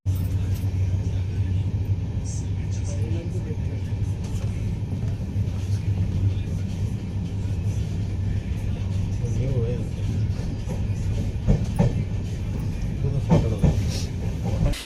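The Amrit Bharat Express passenger train on its first commercial run, heard from on board as a steady low rumble of rolling wheels and carriages that carries on without a break, with faint rattles on top.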